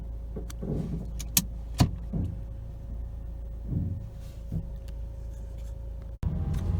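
Steady low engine rumble of a 2012 Mazda 5 on the move during a transmission test drive, with a faint constant whine and a few light clicks and taps inside the cabin.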